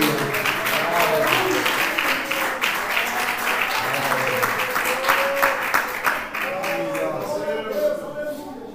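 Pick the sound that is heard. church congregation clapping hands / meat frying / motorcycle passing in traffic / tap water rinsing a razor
church congregation clapping hands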